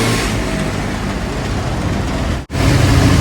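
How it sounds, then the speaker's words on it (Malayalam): Heavy rain pours steadily inside a car, a dense, loud hiss and drumming mixed with the car's road rumble, cut by a brief dropout near the end before continuing. "മഴ പെയ്യുന്ന അടിപൊളി."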